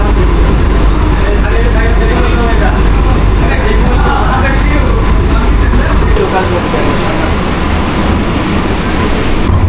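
An AC local train on the Sealdah–Ranaghat line passing a non-AC local, heard from inside as a loud continuous rumble and rattle of wheels and carriages, with a low roar that drops off partway through.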